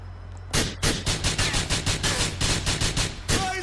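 Rapid bursts of gunfire crack out in a dense, loud, near-continuous volley during a strafing firefight in the video game GTA IV, with no voices over it.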